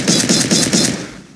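Rapid automatic gunfire in the video game Garry's Mod, a loud close burst of about four quick shots that trails off, with no talking over it.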